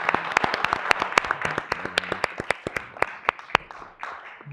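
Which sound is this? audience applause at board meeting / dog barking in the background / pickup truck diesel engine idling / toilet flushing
audience applause at board meeting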